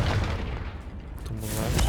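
A Confringo spell explosion in Hogwarts Legacy, a loud booming blast with rumbling low end that fills the whole moment, sustained and dense rather than a single clean crack.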